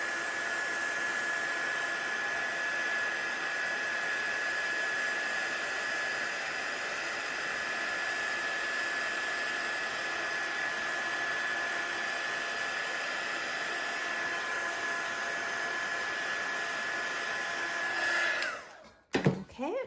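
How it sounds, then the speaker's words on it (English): A heat gun blows steadily to melt embossing powder on a Christmas tree stamped card, a loud constant whooshing hum with a faint tonal whine for almost twenty seconds before it cuts off abruptly with a clunk. "So to heat this up, again, we're just holding that heat gun still."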